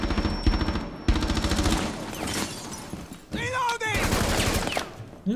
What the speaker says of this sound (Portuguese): Eu vou atirar, eu vou atirando.